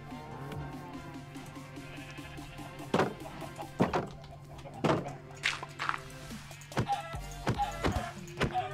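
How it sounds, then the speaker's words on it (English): Chickens clucking in Minecraft survival gameplay, short clucks scattered among several sharp thumps and other game sounds over a steady low hum, with no talking. "Get out of the way, chicken."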